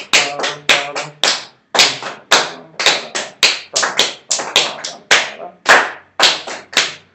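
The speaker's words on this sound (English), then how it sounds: "Here, I'll clap the tempo." A group of students claps a steady tempo in unison during band rehearsal, about two to three sharp, loud claps per second with brief gaps, no talking.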